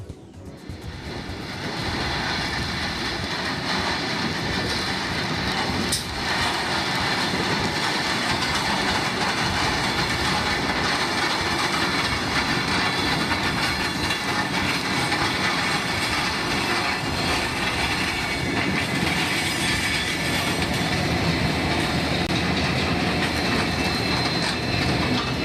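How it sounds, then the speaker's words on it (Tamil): A train without passengers runs across the new Pamban railway bridge near Rameswaram on a test run, producing a continuous heavy rumble and rattle that holds steady for the whole stretch. "2ஆம் கட்ட சோதனையாக நேற்று பாம்பன் புதிய ரயில் பாலத்தில் பயணிகள் இல்லாமல் ரயிலை மட்டும் இயக்கி வெற்றிகரமாக சோதனை நடத்தப்பட்டது."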